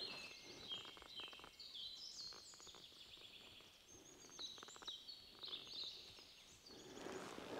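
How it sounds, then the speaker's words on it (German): Many birds sing and chirp through a sunny forest, overlapping bright calls and trills with steady rhythmic song, fairly close and clear over a quiet background with no talking. "man hört einfach nichts außer die Vögel"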